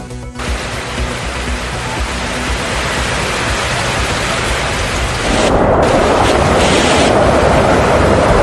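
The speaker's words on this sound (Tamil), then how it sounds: "ஸ்பெயின் அருகே கனமழையால் கேனரி தீவை புரட்டி போட்ட வெள்ளம்." Heavy rain pours in a loud, constant roar during flooding in the Canary Islands, with deep rumbling underneath, growing denser and louder partway through.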